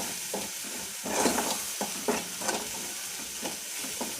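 Chili powder being stirred into a pan of frying food for a rural Maharashtrian besan dish, with repeated scraping strokes over a steady soft sizzle, close by and moderately loud, with no talking.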